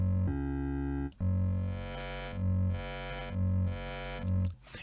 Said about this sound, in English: It's really nice growl wavetable.